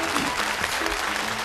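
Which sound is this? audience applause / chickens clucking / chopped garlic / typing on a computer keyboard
audience applause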